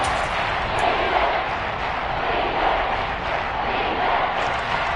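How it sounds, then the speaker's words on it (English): A stadium crowd at a Detroit Lions football game roars steadily ahead of a big third-down play, a dense, sustained wall of cheering and noise with no distinct voices standing out. "the crowd getting into it as we come up on a big 3rd down"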